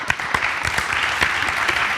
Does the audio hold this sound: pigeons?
no